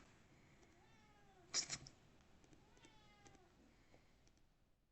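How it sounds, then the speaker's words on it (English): A pet cat meows a few times in a quiet room during a math stream, soft drawn-out cries with a brief louder knock or clatter between them, faint against a low background hiss. "can you hear the cat?"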